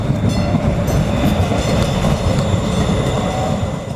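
A train rolls past close to a city alleyway, a loud, steady rumble of wheels on rails with faint squeals, sustained for the whole stretch without letting up.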